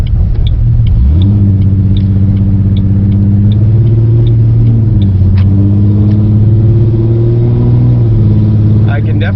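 A Ford Mustang with a 4.0 V6 engine and an idle chop modification, heard while driving on the road: a loud, steady low engine drone with shifting tones as it pulls along, close up, alone without talk.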